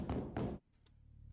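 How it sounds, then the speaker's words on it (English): Two quick knocks on a door in a horror video game, close and dull, followed by near silence with a faint tap or two. "It was 2:10 a.m. when somebody knocked on my door."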